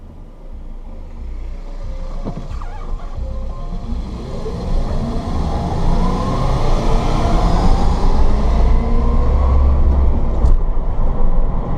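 A 1967 VW Beetle converted to electric drive rolls along a road, with a steady broadband rumble of tyres and wind that slowly builds in loudness, plus a faint rising whine over the drive.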